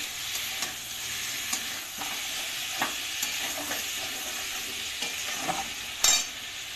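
Water poured into a pan of fried spice paste, a continuous hiss and sizzle with scattered sharp pops and stirring scrapes, with one louder burst near the end.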